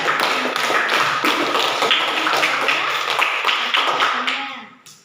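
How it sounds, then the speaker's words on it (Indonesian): Hands clapping for students who answered in a classroom lesson, a steady run of close, fairly loud claps lasting several seconds before fading out. "kita tepuk tangan untuk yang menjawab"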